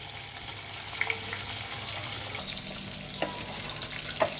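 Oil heating in a frying pan on the stove for cooking, giving a steady low sizzle with a few faint clinks and small crackles, no talking.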